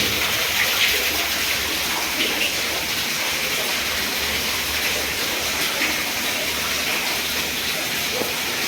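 Water from a borewell pours into a well in a loud, steady, unbroken rush that continues throughout, with no voices.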